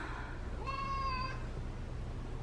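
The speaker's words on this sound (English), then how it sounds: "She is the most vocal cat you will ever meet, but she's also in heat" A vocal cat in heat gives one long, drawn-out rising and falling meow over a low background hum, with quiet room noise before and after.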